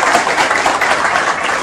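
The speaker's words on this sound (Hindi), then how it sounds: "इनके लिए ताली बजा दीजिए" An audience claps for a student in a classroom, a dense burst of applause that stays loud and steady for under two seconds.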